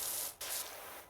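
Pressure washer spraying grime off a suburban surface in a cleaning video game, a bright steady hiss with a brief dip partway through, close and alone.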